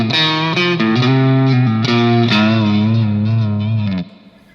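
An electric guitar solo phrase played at one flat, even level without dynamics, with quick bent and slid notes under light distortion and reverb, loud and close before it cuts off near the end.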